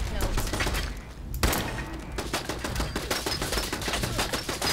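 Rapid gunfire rattles in bursts during a firefight with a machine gun turret in Fallout 4, dense repeated cracks and thumps with a short pause, heard alongside talk.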